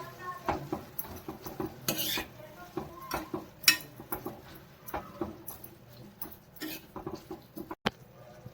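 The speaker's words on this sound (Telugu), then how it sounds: "ఇప్పుడు మనం చుక్కకూర వేసేసుకుందాం. దీన్ని ఒకసారి శుభ్రంగా కలిపేసుకోండి." Sorrel leaves are stirred into a tamarind curry in a pot. The sound is a run of irregular clinks and scrapes from a spoon against the vessel, with some faint background noise and no clear talk.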